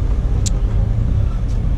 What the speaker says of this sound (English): the little forklift with the extension arm